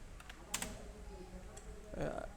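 A few faint, sparse keystrokes tap on a computer keyboard while a stair drawing is made in AutoCAD, with a quiet voice speaking near the end.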